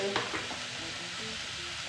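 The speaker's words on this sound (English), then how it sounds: "mixing up the beef and the onion. Yes. Just to achieve a golden brown in the onion." Beef and onion frying in hot oil while being stirred, a close, steady sizzle with light scraping stir sounds over a short stretch.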